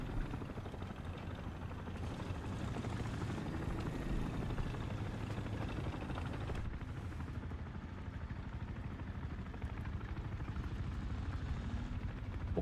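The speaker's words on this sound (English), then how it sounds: "At the very least, that's our helicopter." A helicopter in the War Thunder combat game drones with a steady low rotor and engine rumble, constant and moderately loud, without talk.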